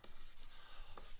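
Quiet, steady scratching strokes of a pen writing out the chemical formula for calcium phosphate, faint and close, with no voices.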